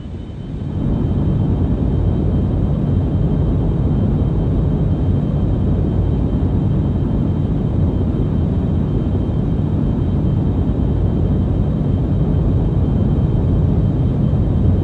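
A spacecraft in the Orbiter 2016 game runs at full power on takeoff, giving a constant, loud, broadband roar that swells up in the first second and then holds steady without a break.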